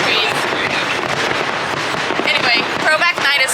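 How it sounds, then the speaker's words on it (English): Fireworks bursting at Disneyland, heard from a distance through trees as a steady run of loud crackling pops and booms, with crowd chatter mixed in. "The fireworks are going off right now. It's very loud."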